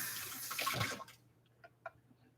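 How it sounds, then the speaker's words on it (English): Running water pours briefly as something is rinsed in a kitchen while cleaning chicken, a loud splashing rush for about a second, then quiet with a few faint drips and small knocks. "I am going to rinse this."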